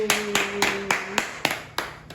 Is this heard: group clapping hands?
yes